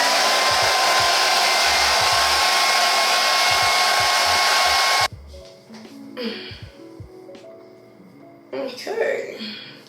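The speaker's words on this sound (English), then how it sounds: "Blow dry all of that." A hair dryer blows loud and steady on a lace wig for about five seconds, then cuts off abruptly, leaving quieter handling sounds.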